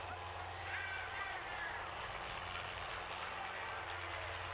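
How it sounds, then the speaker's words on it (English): A helicopter arrives over Cashman Field, the Las Vegas soccer stadium, during a match: a faint, steady low rotor and engine drone runs throughout, with indistinct voices underneath. "The chopper has arrived at Cashman."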